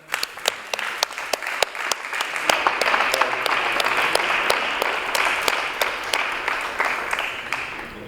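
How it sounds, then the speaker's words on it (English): An audience at a Sónar+D talk at the CCCB welcomes speaker Max Cooper with applause: a dense, loud wash of clapping that swells and holds steady, sharp individual claps standing out on top. "please welcome with a big applause to Dr."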